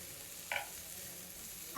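Garlic and ginger roast in hot oil for Kolhapuri chicken, a faint, even sizzle broken by one brief scrape or clink near the start.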